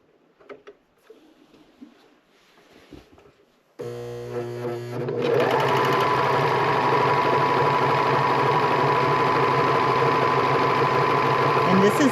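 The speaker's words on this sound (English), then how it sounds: "So I'm just going to serge along this edge" A serger sews along the edge of fabric for a drawstring bag casing. Quiet handling sounds come first, then the machine starts with a loud, steady, fast whirring hum that runs on without stopping.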